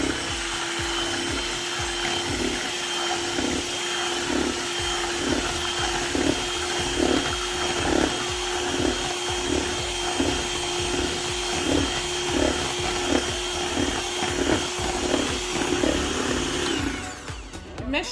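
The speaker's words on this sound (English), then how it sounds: "I already cracked the 7 eggs here, so I'm going to use the mixer" Electric hand mixer whirring steadily through cake batter made with seven eggs, a continuous close buzzing drone with faint rhythmic pulsing from the beaters, running alone for most of the stretch before cutting off at the end.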